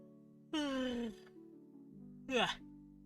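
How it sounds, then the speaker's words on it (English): A man gives a long, drawn-out yawn with a falling groan, then a shorter, rising vocal sound, close and fairly loud over a steady background hum. "Yawn."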